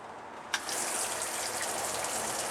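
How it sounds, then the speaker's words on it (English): A Surflo 2088 water pump in a camper kicks on with a small click, then water gushes steadily from the tap, the faint pump hum hidden beneath the rushing flow. "I don't know if you can hear the pump back there."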